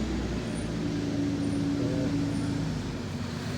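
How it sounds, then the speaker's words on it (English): Garbage truck rumbling past on the street outside, a steady low engine drone with a faint whine, no voices. "wait for the garbage truck to go by."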